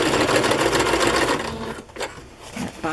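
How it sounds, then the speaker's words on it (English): A sewing machine stitches a fabric pocket onto a page, running steadily and close for most of the stretch before pausing briefly and starting up again. "See if I have enough bobbin thread to sew this pocket on."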